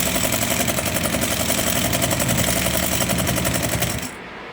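A 68-pound industrial sewing machine fitted with an added servo motor runs at moderate speed, stitching through three layers; a dense, steady mechanical hum close up, continuous and loud, stopping abruptly near the end.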